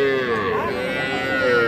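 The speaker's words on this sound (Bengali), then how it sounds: "দুইটাই বকনা বাছুর শাইওয়াল জাতের" Sahiwal heifer calves low at a busy cattle market, a drawn-out, wavering moo running close and fairly loud over a steady murmur of crowd noise.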